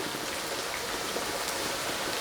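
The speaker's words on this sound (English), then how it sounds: "We'll sprinkle a little bit of sugar as well on top." Fine granules of sugar sprinkled over lettuce in a home kitchen, a soft continuous pattering hiss like light rain, steady and close with no talk.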